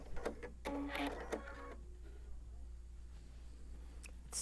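A sewing machine back stitches a giant fabric stocking, with a short run of rapid mechanical stitching followed by a quieter hum and soft handling noise.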